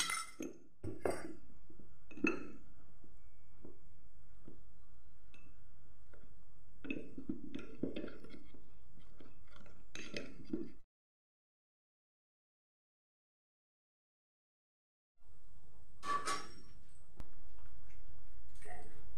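A spoon stirring custard powder into warm milk in a glass or bowl, a run of light, irregular clinks and taps close by, breaking off into a few seconds of silence before more clinking resumes.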